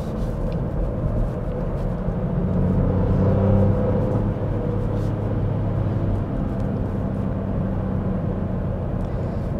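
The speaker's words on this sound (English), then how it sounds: "It's not the quietest car I've ever driven" Inside a 2022 Ford Fiesta ST on Michelin tyres, driven along a twisty road. A loud, constant low rumble of engine and road noise fills the cabin with no pauses.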